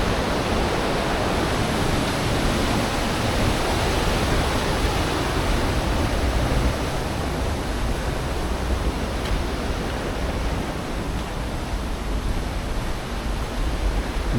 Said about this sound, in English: Steall Falls just coming into view, or Waterfall.